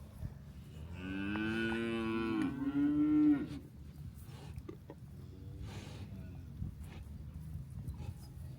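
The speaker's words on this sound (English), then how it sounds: "Sometimes I just like to sit and see how friendly the cows are" Cattle in a field lowing, with one long, loud moo up close followed by fainter, shorter moos from other cows nearby, set against outdoor background noise.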